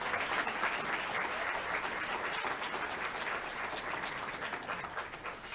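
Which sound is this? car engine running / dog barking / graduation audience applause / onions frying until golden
graduation audience applause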